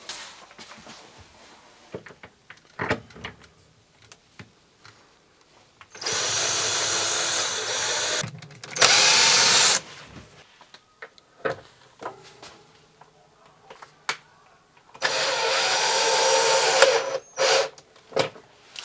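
Cordless power drill driving screws to secure a 180-litre fridge in a DIY off-grid bus kitchen, three bursts of loud close whirring separated by quiet handling clicks and knocks.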